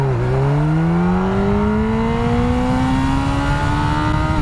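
A Yamaha R1 sport bike accelerates hard from a standstill toward 100 km/h, its engine note climbing steadily and loudly in pitch over several seconds, close to the microphone and without talk.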